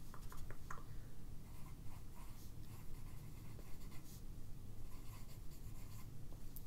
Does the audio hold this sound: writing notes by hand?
yes